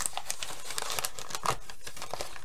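Wrapping paper from a mail parcel is crumpled and crinkled in bursts of crisp, papery rustling, close to the microphone and steady for a couple of seconds, with no voices.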